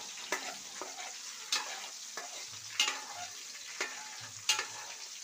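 A ladle stirs chicken pakoda as it fries slowly on low heat, giving soft sizzling with a handful of sharp scraping strokes spaced about a second apart, quiet and close.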